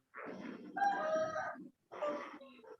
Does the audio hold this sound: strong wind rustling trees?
no